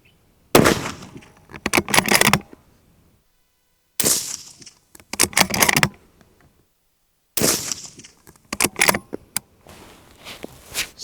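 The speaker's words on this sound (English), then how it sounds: "So I just shot a 3-round group downrange." A rifle fires a three-round group downrange while a riflescope is zeroed for long-range shooting: three loud, sharp shots spaced a few seconds apart, each with a crackling ringing tail and silence between.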